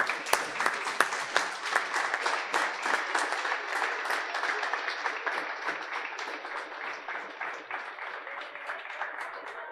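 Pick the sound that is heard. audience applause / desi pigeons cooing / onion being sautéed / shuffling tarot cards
audience applause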